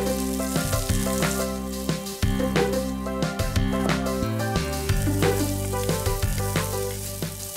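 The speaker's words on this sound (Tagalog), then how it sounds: "Una, igigisa natin itong mga herbs, ano?" Garlic, onion and herbs sautéing in a pan, giving a continuous close sizzle broken by frequent clacks and scrapes of a utensil, fairly loud and with no talk.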